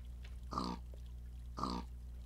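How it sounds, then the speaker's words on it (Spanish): A pig being ridden in the video game Catastrophia gives two short grunts about a second apart, moderately loud over a low steady hum. "¡Oh! Estoy montando un cerdo."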